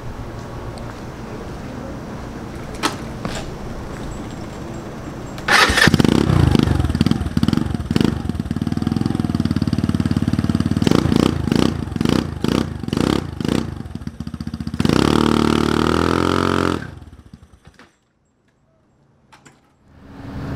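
A small motorcycle engine with a newly replaced ATR wiring harness cranks, catches and runs close by, with loud uneven revving bursts, a sustained run, then a cut-off to near silence.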